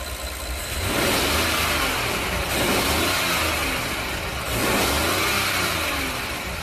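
A Rolls-Royce 6.75 litre twin turbo V12 engine revs smoothly from idle, rising in two or three sustained swells that fall back between them, loud and close, with no talk.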